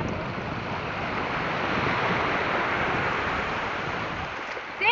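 Ocean surf washes in a steady broad roar, waves breaking continuously with wind rushing across the microphone, no speech.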